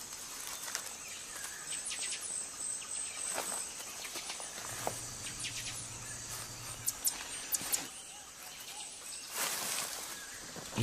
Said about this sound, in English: serenaded by a chorus of frogs and insects